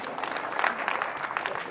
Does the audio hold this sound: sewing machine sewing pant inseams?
no